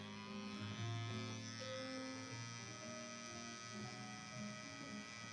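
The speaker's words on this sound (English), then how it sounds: "Because the shaver is right next to your face." An electric shaver buzzes steadily right beside the microphone, a continuous close droning hum with wavering tones and no speech.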